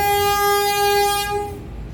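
A single loud, steady train horn blast sounds close by, holding its tone for over a second before fading into rumble.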